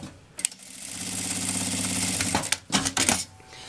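A sewing machine runs a seam on a sack-style fabric bag, whirring in a steady burst of rapid stitching, then stopping and starting again in short bursts, close and fairly loud.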